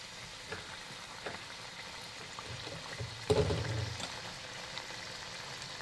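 Chilli fritters (mirchi bhaji) battered chillies dropped into hot oil, a quiet steady frying hiss with a louder bubbling burst partway through as a chilli goes in.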